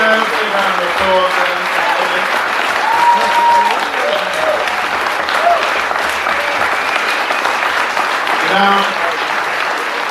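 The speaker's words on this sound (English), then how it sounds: "Big round of applause." A comedy festival crowd at the Bath New Act of the Year final claps steadily and loudly, a dense even wash of applause across the whole stretch with a few voices underneath.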